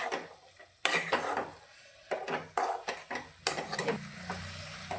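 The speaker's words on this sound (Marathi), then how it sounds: "तसं 5 मिनिटं हलवत राहायचं." Pithla, a gram flour curry, stirred in a pan, with a spoon clinking and scraping against the metal in irregular strokes over a soft background sizzle, close and fairly quiet, no talking.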